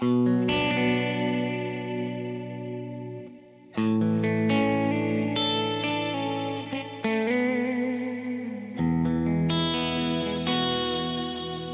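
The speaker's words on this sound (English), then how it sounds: "Now that reverb is pretty bright to me." An electric guitar rings out through a bright, Big Sky-style reverb from a Kemper, sustained chords blooming and washing into a long shimmering tail, struck again in several loud phrases.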